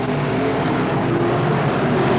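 Modified race cars roar around an oval track on opening night, a dense, continuous engine drone from several cars at once, steady and fairly loud with no voices.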